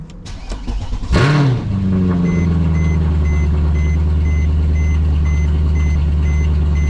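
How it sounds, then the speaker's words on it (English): A Mercedes C63 AMG 507 Edition cold-starts with a quick starter crank and a loud, sharp rev flare, then settles into a deep, steady high idle nearby while a soft periodic beep chimes in the background. "Cold start."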